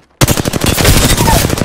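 Loud, close automatic gunfire in a shooter video game, a rapid burst of rattling shots erupting suddenly after brief silence and continuing without pause.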